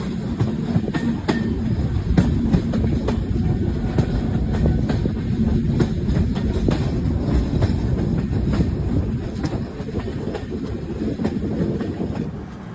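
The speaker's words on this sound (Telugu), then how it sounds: "ఈ ట్రైన్ ఏంటంటే విశాఖపట్నం నుండి మహబూబ్ నగర్ వెళ్ళే సూపర్ ఫాస్ట్ ఎక్స్ప్రెస్" A Visakhapatnam–Mahbubnagar superfast express train runs steadily with a continuous rumble and rhythmic clickety-clack of wheels over rail joints, heard close and loud throughout with no talk.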